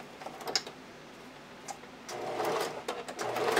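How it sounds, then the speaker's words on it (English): A home sewing machine stitches fabric for high-waist panties, its rapid mechanical clatter coming in short bursts at first, then running more continuously, close and fairly quiet. "So I'm just using my sewing machine."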